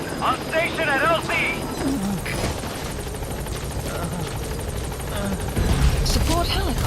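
Support helicopter in the stealth-action game Metal Gear Solid V: The Phantom Pain, its steady rotor roar holding loud and continuous throughout, with game dialogue and effects layered over it.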